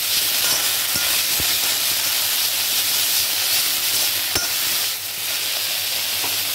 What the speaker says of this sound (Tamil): அரைச்சிட்டு நல்லா நம்ம வந்து வதக்கணும். நல்லா வதக்கணும்.